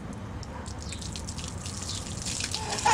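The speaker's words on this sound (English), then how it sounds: "One last try before we turn the hose off. Oh, it's coming out pretty hard." Steady hiss of water spraying hard and continuously from a garden hose, close by, growing slightly louder toward the end.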